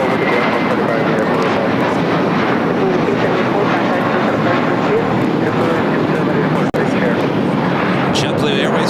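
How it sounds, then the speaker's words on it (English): A heavy jet airliner takes off from runway 25 right at LAX, making a loud, continuous roar that fills the whole clip. "Do have a heavy taking off, number 2 for takeoff here on the south side, 25 right."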